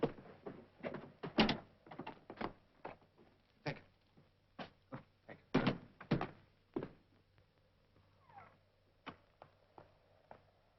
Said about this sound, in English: Sigon, Would you open the door at the end of the passage